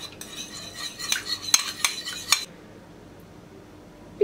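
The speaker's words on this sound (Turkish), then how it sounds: "Bunları bir çırpıyorum." A spoon whisks a sauce of tomato paste, water and oil in a bowl, clinking rapidly and irregularly against the side for about two seconds before stopping into near silence.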